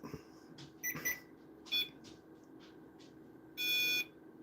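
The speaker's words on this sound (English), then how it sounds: "I'm going to turn the REM pod on for a little bit. It goes off, anything that comes around." A REM pod paranormal detector gives a few short electronic beeps and one longer steady tone, fairly loud against a quiet hum, with no talking.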